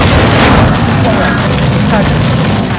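A missile explodes in the Call of Duty Modern Warfare II campaign, a loud, sustained booming blast that rumbles and roars throughout, with game voices faintly underneath.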